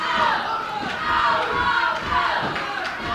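Wrestling crowd at an OVW television show chanting and screaming loudly for Rob Conway, a continuous dense roar with rhythmic rising chant swells throughout.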